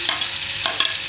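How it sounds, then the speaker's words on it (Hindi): Sliced onions go into hot oil for bhindi masala, giving a close, steady sizzle with a couple of brief stirring scrapes. "ये देखें जी, अब प्याज डाल जा रहे हैं।"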